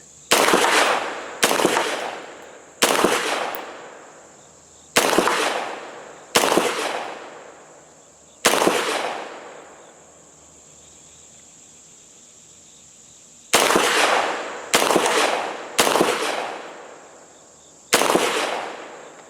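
Nine sharp 9mm pistol shots from a Gforce Jawbone fitted with a moving brace, fired outdoors in two uneven groups with a long pause between, each loud crack trailing off in a ringing decay over a steady insect-like hiss.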